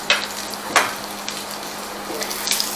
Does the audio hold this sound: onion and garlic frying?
yes